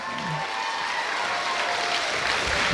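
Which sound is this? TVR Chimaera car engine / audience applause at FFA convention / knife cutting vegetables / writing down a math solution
audience applause at FFA convention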